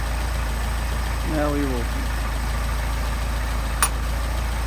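A Mercedes 190SL engine idling on Solex carburetors at around 700 RPM, a steady close rumble under a brief spoken phrase, with one sharp metallic click near the end.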